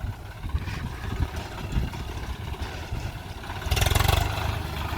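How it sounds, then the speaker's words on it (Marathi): A tractor engine runs steadily through field sowing, a rough, clattering drone that grows louder and heavier near the end as the throttle is pushed. "हे बघा फायनली ट्रॅक्टर पण आला आहे."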